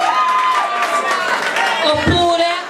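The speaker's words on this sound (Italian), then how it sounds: "giustamente un applauso, premio della critica" Studio audience at a 2010 Italian TV contest evening applauds and cheers for a contestant receiving the critics' prize, a steady crowd roar running the whole time with a host's voice and music-like tones over it.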